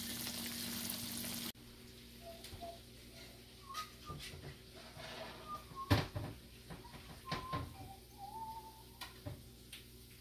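Fish cakes frying in hot oil, a faint steady sizzle with soft clinks and scrapes of utensils scattered over it, and a brief louder burst at the start.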